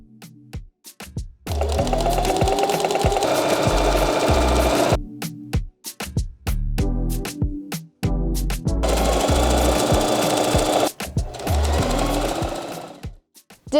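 A sewing machine hems upholstery fabric for a bed headboard and footboard, running in long steady rapid bursts with short pauses between them, loud and close, with no talk.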